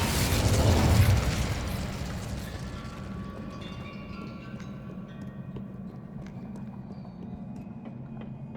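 An Incendio fire spell cast in Hogwarts Legacy bursts with a loud whooshing blast up front, then decays into a lingering crackling rumble with scattered small pops over a low steady hum.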